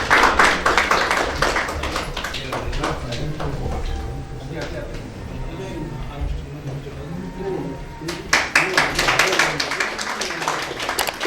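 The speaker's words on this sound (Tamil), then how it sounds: "உங்களுடைய கையில் தட்டி கொஞ்சம் ஆரவாரம் பண்ணுங்கள்" An audience claps to honour a guest at a Tamil astrology gathering, bursts of dense applause at the start and again near the end, with voices and low murmuring carrying on in the quieter middle stretch.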